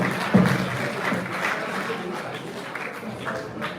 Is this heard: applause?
yes